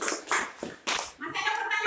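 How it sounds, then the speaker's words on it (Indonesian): Classroom applause from students, a few bursts of clapping broken by short gaps, fairly close, with voices mixed in. "Kita berikan aplaus dulu."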